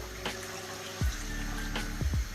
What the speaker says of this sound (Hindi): यहाँ पे हम पानी ऐड कर देंगे गलने के लिए।